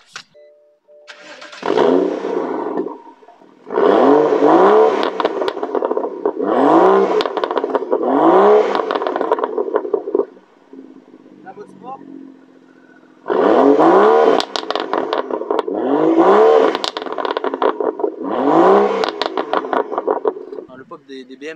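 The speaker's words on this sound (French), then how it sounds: "bien sûr, le petit 6 cylindres" A BMW M135i six-cylinder engine cranks and roars to life, then revs hard in repeated bursts, dropping to a low idle between them; loud and close.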